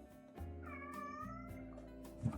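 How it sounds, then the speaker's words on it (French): A cat meows with a drawn-out, rising and falling cry lasting about a second, heard close over a steady low background hum with no talking. "Qu'est-ce qu'il y a à miauler, toi?"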